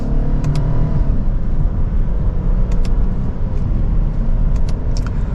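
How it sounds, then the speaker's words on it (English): 2024 Lexus IS350 F Sport accelerating gently in second gear, a steady loud engine rumble and road drone heard from inside the cabin, with a few faint clicks and ticks along the way. "Here we go with a mild acceleration."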